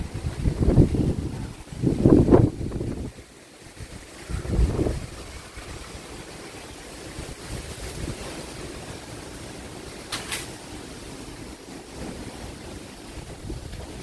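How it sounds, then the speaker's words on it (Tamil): Strong gusts sweep through swaying trees, with heavy rumbling wind buffeting the microphone in several bursts early on before settling into a steadier, softer rush. "இங்கே வேறுங்க மரம்லாம் எப்படி ஆடுது காற்றுல."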